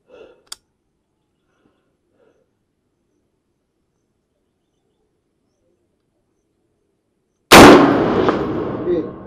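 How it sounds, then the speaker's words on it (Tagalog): A Colt M4 rifle with a Sig Sauer scope fires an M855 round at a 200-meter target: a single sharp, loud shot near the end with a ringing decay, after near silence and a faint click. "Ang putukan natin ngayon ay 200 meters."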